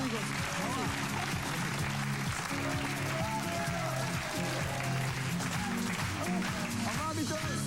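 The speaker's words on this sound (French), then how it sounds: "Applaudissements pour Nico Salarias." Studio audience applause on a French television show, a steady wash of clapping with cheering voices and music mixed underneath, continuous and fairly subdued throughout.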